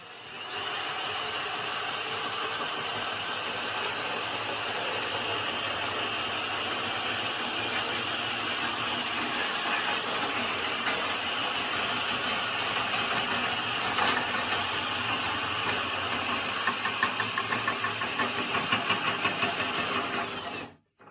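A steady electric sack truck motor whine runs continuously at close range, loud and unbroken, with a brief rise in intensity near the end before it cuts off.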